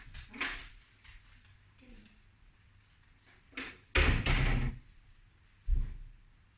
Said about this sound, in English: Excuse me, I just have to open the door. My dog is wanting to get out.